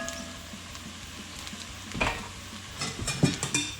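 Bacon and sausage fry in a pan for shrimp and grits, a soft steady sizzle with a few louder clinks and scrapes of stirring near the end.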